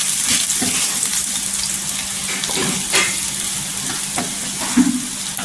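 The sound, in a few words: onion frying in oil with curry leaves in a kadai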